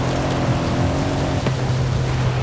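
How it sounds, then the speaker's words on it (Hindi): Rain falling during sunshine in the Forza Horizon 5 racing game, a steady broadband hiss over the low drone of an idling Lamborghini Urus engine, continuous and close. "धूप और बारिश साथ में हो रखी है।"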